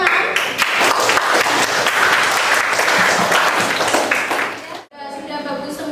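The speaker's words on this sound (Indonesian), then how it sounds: "Kita beri tepuk tangan." A secondary-school class of tenth graders claps together in the classroom, a loud, dense burst of applause lasting about five seconds before stopping abruptly, followed by voices.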